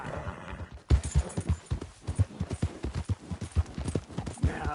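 Horse hooves clip-clop at a steady trotting rhythm in Red Dead Redemption 2, close and clear against a rumbling background, with a brief whinny near the start.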